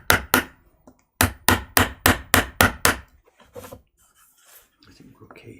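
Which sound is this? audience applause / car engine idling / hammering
hammering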